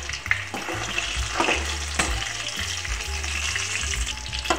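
Potatoes frying in hot oil for dum aloo: a steady, fairly loud crackling sizzle, broken by a few sharp clinks and scrapes from stirring.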